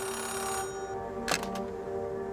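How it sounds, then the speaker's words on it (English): A payphone ringing in Oxenfree 2, heard as steady tonal ringing held through the whole stretch at moderate level, with one brief louder burst partway through. "Payphone ringing in the wild?"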